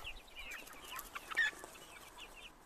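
Turkeys and a few chicks wander outdoors on an evening farm in Antalya, giving soft scattered clucks and chirps at a low level, with one brief louder call near the middle.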